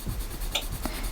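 Watercolour pencils scratch across paper while a red squirrel is drawn: soft, dry strokes at close range, with a couple of brief, brighter scrapes and no talking.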